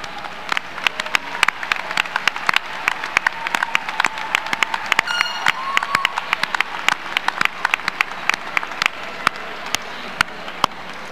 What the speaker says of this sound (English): join me for a well-deserved round of applause for our outstanding faculty and staff